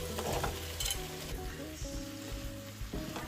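Eggplant and potato pieces stir-fry in a cooked-down spice paste, giving a quiet, continuous sizzle with a steady melodic tone running beneath it.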